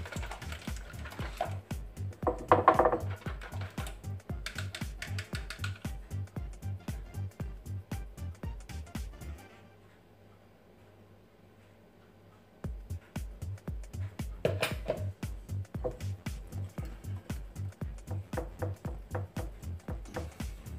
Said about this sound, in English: Beat your eggs up like so